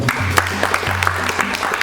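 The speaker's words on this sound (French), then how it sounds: "Applaudissez pour le PENADA" Brief audience clapping at an awareness event on fish farming in Yaoundé, a scattered patter of hands over a low steady hum.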